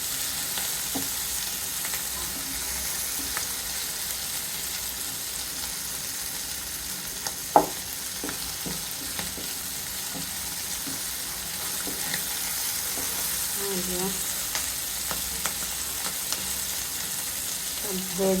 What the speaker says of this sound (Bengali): এই যে এখানে আমি চিংড়ি মাছ তারপরে পেঁয়াজ এগুলো ভেজে নিচ্ছি।